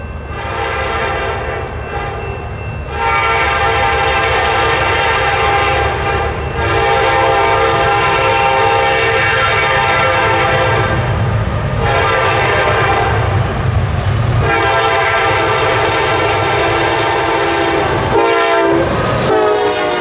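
A Ferromex SD70 locomotive leading a freight train sounds a loud, sustained multi-note horn at close range, with blasts repeating over the rumble of the passing train.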